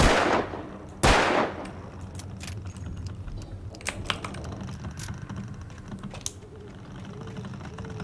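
Two loud, sharp gunshots ring out about a second apart in a horror video game, then fade into quieter scattered clicks and tapping.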